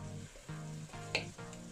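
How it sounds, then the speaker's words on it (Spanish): Chopped cilantro and tomato frying in a pan for habas soup, a soft steady sizzle with a faint stirring scrape, close and quiet under a low hum. "Le voy a agregar el cilantro para que también vaya comenzando a freír."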